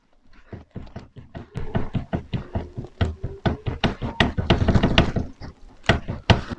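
Rapid, repeated knocking and tapping from play in a Honda Civic (7th generation) seat rail, loose and rattly, in a steady rhythm that grows louder and busier before tapering off.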